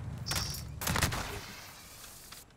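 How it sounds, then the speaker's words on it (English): Video game gunfire: two quick loud bursts of rapid shots close together in the first second, followed by a quieter fading tail. "Those were some nice shots."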